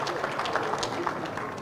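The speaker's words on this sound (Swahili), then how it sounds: "Tumpigie makofi Mumbi." Crowd applause for Mumbi, a former Thika mayor, at an outdoor political rally at Mount Kenya University in Thika, Kenya; steady, dense clapping fills the whole moment at even loudness, with crowd noise mixed in.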